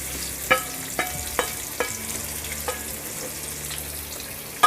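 Roughly chopped onion frying in a pan over low-to-medium flame for dhaba-style sev tamatar sabzi, with a steady close sizzle and sharp spatula scrapes and clicks at irregular intervals, no talking.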